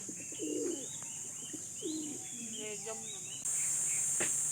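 Racing pigeons coo in soft, low repeated phrases at close range, mixed with scattered higher chirps and tweets, during a land training session; the background steps up to a louder steady hiss near the end.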